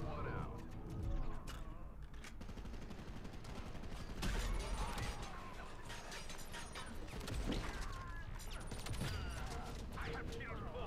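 Gunfire in the video game MCV, with repeated sharp shots and bursts mixed with mechanical clanking, running steadily under someone talking.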